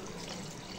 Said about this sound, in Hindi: 1 लीटर पानी, यानी कि मेरे 3 ग्लास पानी शामिल किया है।